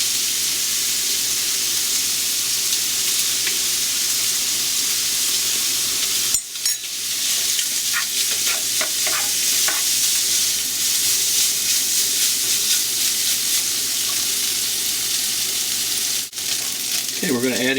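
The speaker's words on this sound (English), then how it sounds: "I've cooked the pork until it just lost its color. Now we're going to put our sauce mix in here." Pork and a sauce mix stir-fry in a pan for kimchi ramen, giving a loud, constant sizzle with occasional scrapes and stirring clatter close by.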